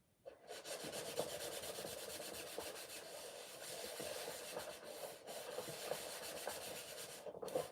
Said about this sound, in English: So I'm going to rub on the wax.